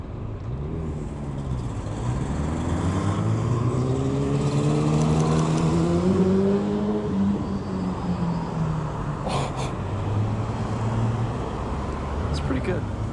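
On a street with traffic, a motorbike pulls away from a green light, its engine pitch rising and falling through the gears above a steady road rumble.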